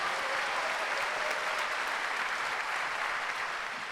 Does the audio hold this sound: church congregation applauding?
yes